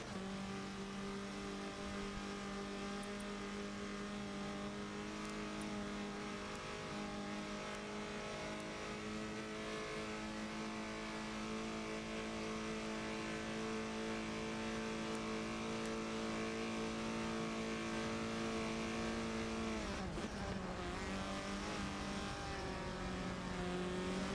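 A Formula Ford race car's engine drones steadily from onboard during a racing lap at Watkins Glen, a constant high mechanical hum that dips briefly near the end as it lifts off and shifts, with no talking.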